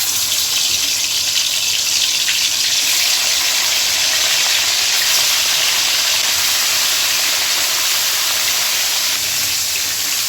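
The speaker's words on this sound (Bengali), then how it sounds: "এখন এখান থেকে মাংসের টুকরো নিয়ে ভেজে নিব" Chicken pieces fry in a generous amount of hot oil, giving a loud, continuous close-up hiss and crackle that holds evenly throughout with no talking.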